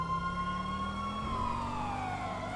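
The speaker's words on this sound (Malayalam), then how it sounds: "ഈ സൈറൺ ഇട്ട് പോയാൽ ശരിയാവില്ലല്ലോ." Police car siren in the video game GTA 5, a loud wailing tone sliding steadily downward over a low engine drone, continuous and close throughout.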